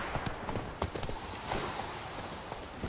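Hooves of Geralt's horse Roach clip-clop steadily across ground in The Witcher 3, quiet and close under a dense wash of game ambience, with a brief whinny-like note.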